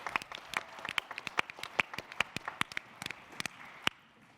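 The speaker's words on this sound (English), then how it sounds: "how about a nice warm round of applause?" Audience applause at a palliative care innovation awards session, scattered individual claps of moderate loudness that thin out toward the end.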